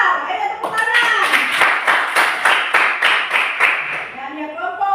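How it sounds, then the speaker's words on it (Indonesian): A school class claps together for a student group, a steady rhythmic burst of hands beating in unison at close range, with children's voices mixed in before it fades out. "Ayo tepuk tangan."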